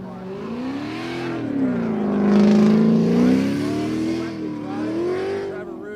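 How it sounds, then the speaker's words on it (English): A BMW E36 race car accelerates hard through a hairpin at Raceway Park during qualifying, its engine revving up and down in a loud, sustained wavering drone as the throttle is rolled on, with a commentator talking over it. "nice committed throttle, rolling into the throttle as he rotates that car into our hairpin here at Raceway Park"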